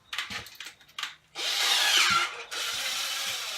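A low power drill works near a table saw, with a few short buzzing bursts followed by two longer sustained whirring runs, close and fairly loud.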